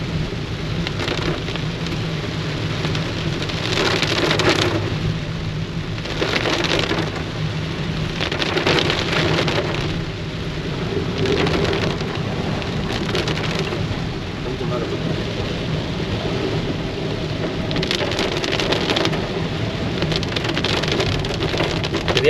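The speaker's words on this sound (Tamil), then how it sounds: "சரியான மழை." Heavy rain pours down on a car during a road trip from Chennai to Sabarimala, a dense steady hiss drumming on the vehicle with repeated louder surges, close and loud throughout, with no talking over it.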